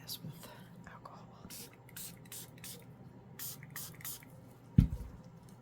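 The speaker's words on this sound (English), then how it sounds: "Let me spray this with alcohol." Short bursts of spray from a bottle of alcohol mist onto fresh resin, several quick hissing puffs in an irregular rhythm, followed by a soft thump, in a quiet room.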